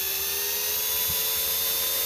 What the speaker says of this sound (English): I have a drill. I shall drill a hole here.